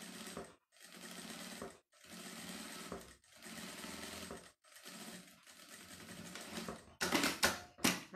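A sewing machine runs in repeated bursts of rapid stitching with short pauses between them, topstitching fabric for a manicure kit, close and clear with a faster rattling run at the end.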